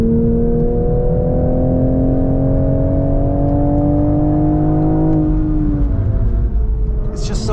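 2023 Toyota GR Supra 3.0 manual on a race track: a loud, close engine note climbs steadily under load, then drops on a gearshift near the end, with a voice talking over it.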